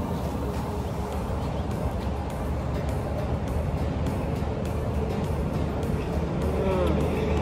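Steady traffic rumble from trucks on a nearby highway, a continuous low drone with passing swells, loud and unbroken throughout.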